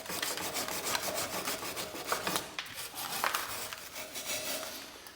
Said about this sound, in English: medium bristle brushes. They're metal bristles.